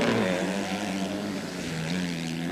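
MX2 motocross bike engines race on a track at the Isle of Wight round of the 2005 MXGP, producing a steady, droning buzz with shifting pitch, loud and close with no talking.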